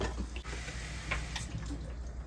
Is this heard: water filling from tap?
yes